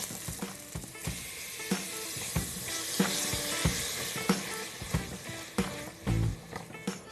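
Onions and tomatoes sizzle steadily in a pan for spinach khichdi, a dense continuous frying hiss broken by repeated stirring scrapes and clinks, close and fairly loud with no talk.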